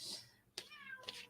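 A pet cat indoors gives a clear, close meow mid-clip, with a short second call just after, while someone speaks faintly around it.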